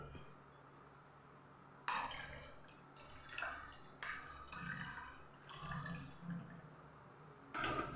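Melted carrot-and-turmeric soap mixture is poured into an oiled soap mould, making soft, close liquid splashes and trickles in several separate bursts over a quiet background.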